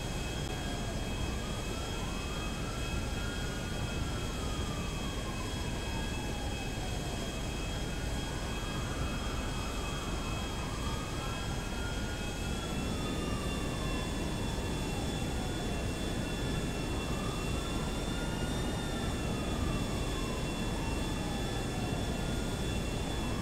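Several helicopters in the video game GTA drone steadily overhead, their engine whine rising and falling with repeated sweeping passes, loud and continuous throughout.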